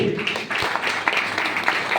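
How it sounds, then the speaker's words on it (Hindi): Seminar audience applauding together, a dense steady wash of clapping that holds for the whole stretch with small swells. "एक बार जबरदस्त ताली इनके लिए"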